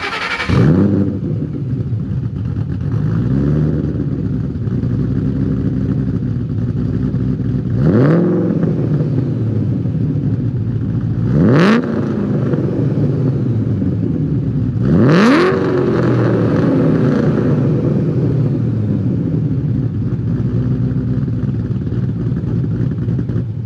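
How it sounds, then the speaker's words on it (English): Exhausts of a 2010 Shelby GT500, a 2009 Holden Commodore and a 2003 Ford Mustang Cobra rumble at a close idle, with three sharp rev bursts that rise and fall back to a burbling growl. "Revs, drive-bys, and maybe some full throttle action."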